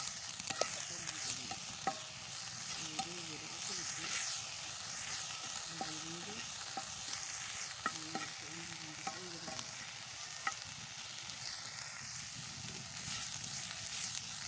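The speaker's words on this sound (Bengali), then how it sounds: "প্রথমে চিংড়ি শুটকিগুলো ভেজে নিব," Dried shrimp frying in a little oil, a soft steady sizzle with intermittent stirring scrapes and light clicks from a utensil, faint and even throughout.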